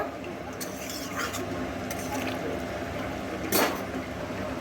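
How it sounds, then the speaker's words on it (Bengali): Fried gulsha tengra fish are stirred into a simmering curry in a pan, with soft scrapes and light utensil clinks over a steady background hiss and one louder scrape near the end. "এই সময় ভেজে রাখা মাছগুলোকে এর মধ্যে দিয়ে দেব দিয়ে আবার ভালো করে নাড়াচাড়া করে এর সঙ্গে একটু মিশিয়ে নেব"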